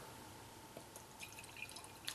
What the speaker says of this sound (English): Let's get the pour.